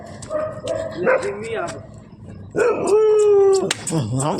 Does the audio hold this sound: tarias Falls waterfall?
no